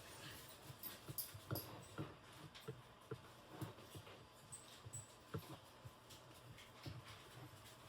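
Dogs indoors in a home kitchen pant steadily and whimper softly nearby, in quiet, rhythmic bursts with no talking.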